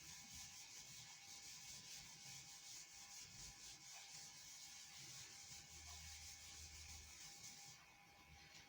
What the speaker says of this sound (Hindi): ये मैं रब कर देता हूँ।